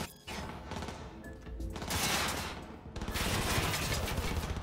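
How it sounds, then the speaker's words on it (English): Gunfire in Cyberpunk 2077, loud close bursts of rapid automatic shots with crashing impacts, rising into dense sustained volleys, no voices. "Somebody's shooting me through the ground right now, actually."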